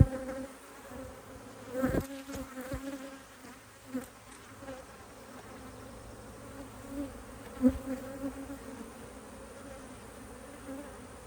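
Honeybees buzz in a steady, fairly quiet drone around an open hive with many drones on the frames, broken by a few brief louder swells of nearby wingbeats.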